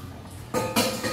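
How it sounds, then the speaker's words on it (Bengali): A sister washes dishes by hand, with a soft clatter building to two sharp, close clanks of pots and plates knocking together and a lighter clink at the end. "দিদি বাসন মাজছে।"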